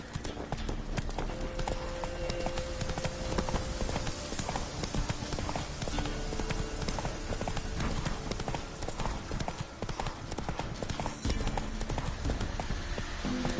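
Steady galloping hoofbeats from a horse in The Witcher 3 run continuously and fairly loud, a dense rhythmic clatter with faint music and ambience beneath.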